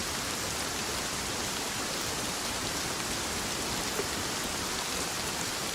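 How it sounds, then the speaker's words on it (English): Steady rain pours in the survival video game Rust, a dense, even hiss that holds unchanged for several seconds with no voices over it. "the freaking rain makes it practically impossible to hear anything"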